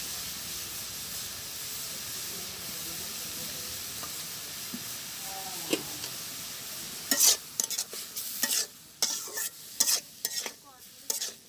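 Chilies going into a pan of greens in a village kitchen, a steady hissing fry that turns into a run of loud, choppy stirring scrapes and clatters toward the end.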